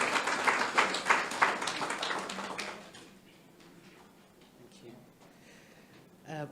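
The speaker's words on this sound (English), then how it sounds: "Give her a round of applause." Audience at a public education event on vector-borne disease claps for a speaker walking to the podium, a brief burst of applause that fades after about three seconds into quiet room noise and faint voices.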